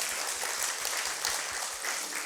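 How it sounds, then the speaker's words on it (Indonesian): An audience at a Sunday church service applauds, a steady wash of clapping heard at moderate distance throughout the short moment. "Kasih tepuk tangan."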